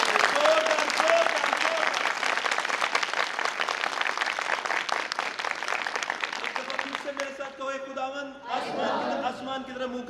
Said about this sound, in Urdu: زوردار تالیاں خدا کے جلال کے لیے